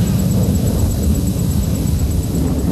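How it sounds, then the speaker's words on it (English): A Sukhoi-30 MKI fighter jet flying an aerobatic maneuver in an air show, a loud, steady, broad roar of jet engine noise throughout with no voices. "Sukhoi 30 MKR is the only operational aircraft in the world today that can do this extremely complex maneuver."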